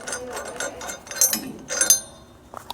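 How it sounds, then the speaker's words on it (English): Metal bolt being worked out of a vehicle's shock absorber mount, giving a few close, sharp metallic clinks and scraping knocks in short bursts over a quiet background. "Now we can pull our bolt out."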